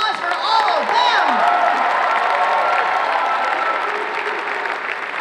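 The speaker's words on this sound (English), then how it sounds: "A round of applause for all of them." An audience at a cosplay contest at a comic convention applauds and cheers after a group category, with sustained clapping, whoops and shouted voices rising over it near the start before it settles into steady applause.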